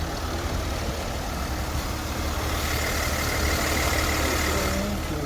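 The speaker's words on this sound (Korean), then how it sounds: "지금 엔진 소리 한번 들어보시면" A Hyundai Veracruz S2 engine with newly replaced tensioner bearings idles steadily, a low rumble continuing close by, with an even drone and no voices.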